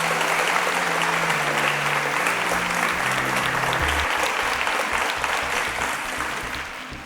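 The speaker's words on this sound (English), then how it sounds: "Round of applause for them as they exit the stage." Sustained audience applause at a Nigerian TV quiz show as contestants leave the stage, a dense crowd of clapping hands that holds steady for several seconds and slowly tapers, with a low musical drone underneath.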